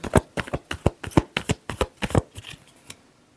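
Tarot cards are shuffled by hand in a quick run of about a dozen crisp riffling slaps, close and fairly quiet, that thin out and fade toward the end.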